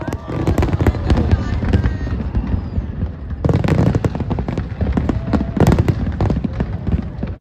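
Fourth of July fireworks in New York, a fast run of crackling pops and booming bursts with a brief lull partway, then a renewed dense barrage, loud and close, with crowd noise mixed in.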